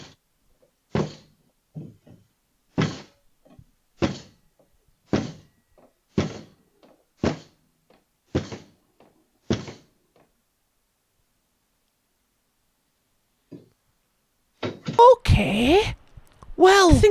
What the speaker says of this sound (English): Roommate possibly tried to break down my door while I was away at work.